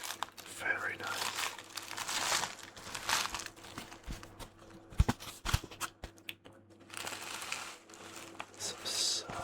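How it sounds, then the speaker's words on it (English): Close, quiet crinkling of dry spearmint tea leaves rustled by hand for ASMR, coming in soft irregular bursts with a few sharper crackles and occasional whispered speech. "Some subtle rustling of the leaves."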